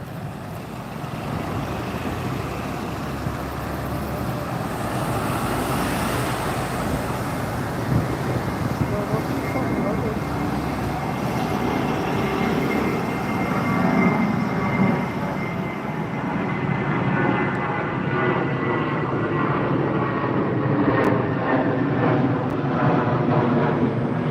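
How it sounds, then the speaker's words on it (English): A British Airways Airbus A320 goes around during arrivals at London Heathrow, producing a sustained, loud jet engine roar that holds steady across the whole stretch, heard from the ground. "Another British Airways A320. Another one just going around."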